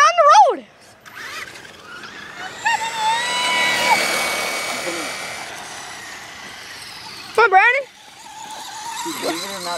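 Traxxas Rustler VXL RC car running flat out down a road, its high whining motor rising and holding for several seconds before fading, with people talking briefly at the start, near the end and over the tail.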